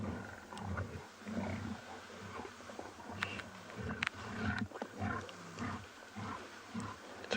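Wild lions call and snarl at a private game reserve on an afternoon safari, with low roaring grunts and rumbles coming from a distance over a faint, steady outdoor background.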